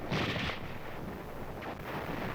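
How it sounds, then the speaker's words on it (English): A wartime firefight with heavy gunfire and artillery, heard as a dense, rumbling roar of distant bursts and blasts that blur together through an old, noisy recording, with no clear single shots. "A firefight begins."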